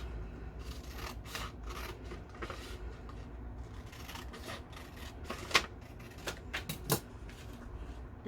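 Scissors make quiet, scattered snips and rubbing cuts while trimming a 10 cm piece for a drawers sewing pattern, with a few sharper clicks near the end and no talking.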